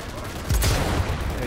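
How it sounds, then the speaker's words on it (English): Sniper rifle fire in the video game Cyberpunk 2077: one loud, sharp shot near the middle with a brief booming tail, set against steady background game ambience. "just give me the sniper rifle then."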